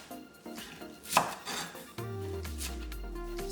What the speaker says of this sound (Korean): 미나리 크기 한 줌 300g은 5cm 길이로 잘랐다